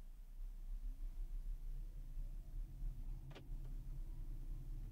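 Tata electric car driving, a low steady road rumble and tyre hum close inside the cabin, fairly quiet and even, with a brief higher whirring sweep partway through.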